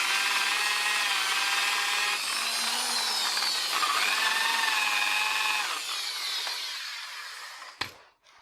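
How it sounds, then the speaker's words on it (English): An angle grinder grinds on an old bicycle frame, a steady high whine with shifting pitch as pressure changes, loud and close, then a sharp knock and sudden stop. "So the plan is to just clean it up a little with the angle grinder."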